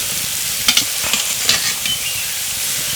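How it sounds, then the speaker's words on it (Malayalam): Onion with ginger and garlic sautés in a pan, a steady close sizzle broken by a few sharp scraping stirs near the start, no talk. "സവാള നമ്മൾ വഴറ്റിക്കൊണ്ടിരിക്കുക"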